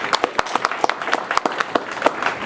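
Scattered audience applause at a live comedy show, a sparse handful of distinct individual claps ringing out irregularly rather than a dense ovation.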